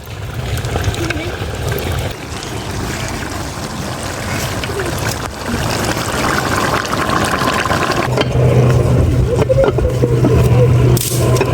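Water is poured for several minutes into a village-style handi chicken pot, a continuous gushing, splashing pour heard close and loud, with a low rumbling hum building toward the end and voices underneath.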